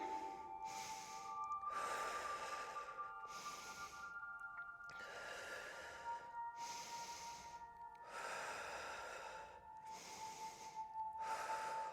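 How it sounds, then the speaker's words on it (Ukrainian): Deep, slow breathing during a yoga session, close and soft, with long breaths repeating in a steady cycle under a faint constant tone and no talk. "Дихаємо."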